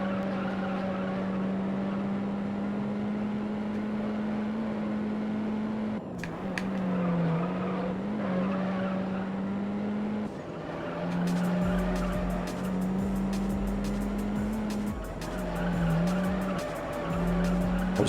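A race car in the racing game Juiced spins out, its engine droning steadily while tires skid and squeal in long, loud stretches, with a rough rumble of the car sliding across the surface near the end.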